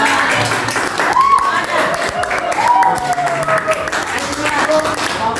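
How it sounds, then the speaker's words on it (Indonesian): A school audience claps for a student group after a presentation at a high school, a moderate, steady patter of applause with several voices talking and calling out over it. "kita beri tepuk tangan untuk kelompok kita"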